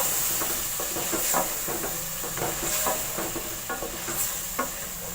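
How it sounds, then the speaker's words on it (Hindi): Chickpeas frying in a pot for chana pulao sizzle softly under repeated stirring, with a spoon scraping and knocking the pot in an uneven rhythm, close by. "बस चने फ्राई हो गए अच्छे से"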